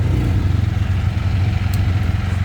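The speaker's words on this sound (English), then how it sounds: "we just looking at the bikes and getting them started, testing them out" A Can-Am Ryker three-wheel motorcycle engine runs nearby at a steady, throbbing idle with a low rumble and light mechanical clatter, and no talk is heard.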